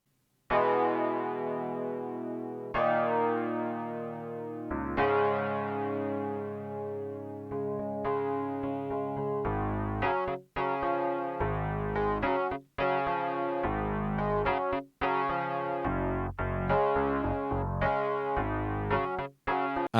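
Custom Rhodes electric piano preset built on the classic variation, mellow bell-like chords and melody played with both hands, notes struck in a steady flowing rhythm with a deeper bass line joining midway, close and alone.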